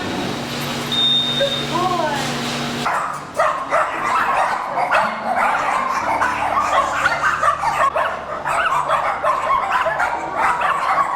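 Several dogs bark and yip in quick bursts during a street walk with a dog-walking group in Los Angeles, loud and near, with people talking over the commotion.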